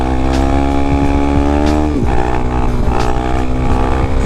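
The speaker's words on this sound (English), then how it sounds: "These are kind of like my first wheelies since I haven't been on the DRZ in months" A DRZ dirt bike revs loudly and close up through wheelies, its engine note rising and dropping in pitch as the throttle is worked, with no speech over it.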